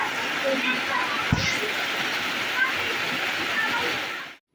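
Heavy rain pours down outdoors on the way to a satra in Assam, a loud, dense, unbroken hiss that fills the scene and then cuts off abruptly at the end.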